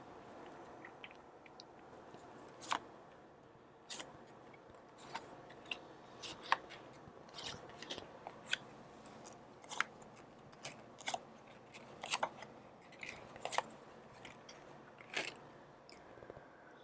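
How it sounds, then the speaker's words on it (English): Tarot cards slide and snap as they are pulled from the bottom of a deck, giving sparse, crisp, faint papery clicks and flicks at irregular intervals, close by with no talk. "Let's pull out the cards from the bottom of the deck."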